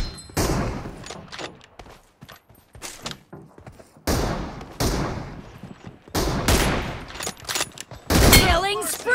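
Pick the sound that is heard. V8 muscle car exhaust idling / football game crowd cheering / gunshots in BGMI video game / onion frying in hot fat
gunshots in BGMI video game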